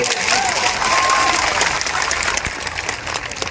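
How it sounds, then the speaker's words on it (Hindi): Loud, dense applause from a crowd at a rally in Mewat, a continuous roar of clapping that holds steady and eases slightly toward the end. "एक बार जोरदार ताली बता दी तो इनके लिए बता"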